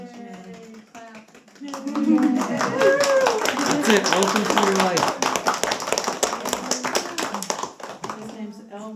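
Family and gathered guests clap at a baby naming ceremony, a steady run of hand claps filling most of the moment while adults talk and cheer over it.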